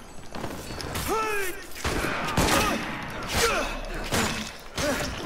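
Gunfire in the Assassin's Creed Unity video game: a series of sharp shots and crashes spread across the clip, with a voice talking loudly over the action.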